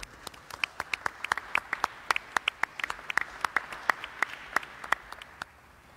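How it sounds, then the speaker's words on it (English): Sparse, quiet applause from a small audience at a New York press briefing, individual claps distinct and irregular over about six seconds with no talking. "Let's give New Yorkers a round of applause."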